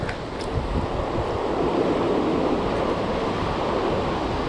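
Ocean surf breaks on the beach during surf fishing for corbina, a loud continuous roar of waves and rushing water mixed with wind noise on the microphone, with no voices.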